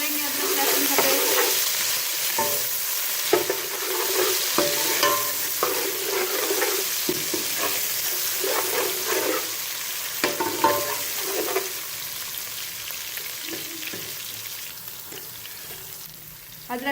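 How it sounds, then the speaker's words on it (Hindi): Ginger garlic paste fries in hot cooking oil over browned onions for a beef pulao, a loud steady sizzle broken by repeated scraping stirs of a spoon in the pan. "फ्राई करेंगे अदरक लहसुन का पेस्ट।"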